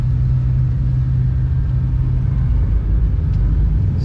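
A 2023 Seasport Kodiak 26-foot boat's engine is throttled up, giving a loud, steady, deep rumble that holds without pause, with no talk.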